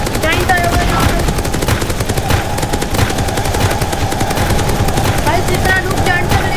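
Dense, continuous automatic gunfire in a Roblox game battle, loud and rapid with overlapping shots and some game effects throughout.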